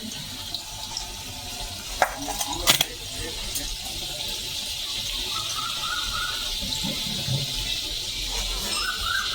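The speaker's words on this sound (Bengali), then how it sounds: "এই দেখুন এক পিঠ ভাজা হয়ে গেছে, আমি ফের উল্টে আর একটা পিঠ ভেজে নিচ্ছি।" Food frying in hot oil in a Bengali home kitchen, one side already browned before it is flipped, gives a steady hiss that runs the whole time with a couple of sharp clicks near the middle and no talking.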